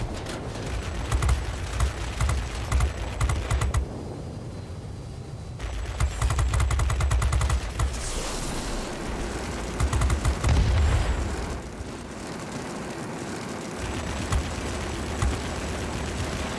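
Aircraft gunfire in the combat flight game World of Warplanes, steady loud bursts of rapid fire broken by short pauses over a dense roar of engine and battle noise, with no talking.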